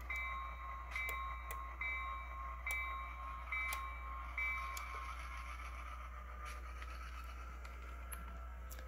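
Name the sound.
model train moving caboose on a small switching layout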